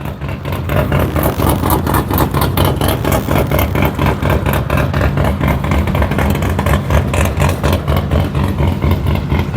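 A car engine roars and revs continuously amid loud crowd noise at the Qatar Custom Show auto show, steady and close with no pauses.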